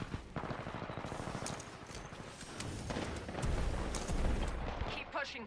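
Hemlock burst rifle fire in a Titanfall-style pilot-versus-pilot shooter, rapid repeated bursts of gunfire mixed with game effects across the whole stretch.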